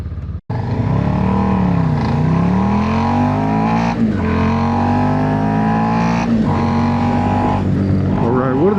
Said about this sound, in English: we got another bike coming up behind us